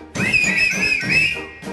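A sustained melodic whistle carries a tune in a German swing song, bright and clear over soft orchestral accompaniment, wavering in pitch for under two seconds.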